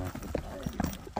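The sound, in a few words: horse hooves clip-clopping, piebald horse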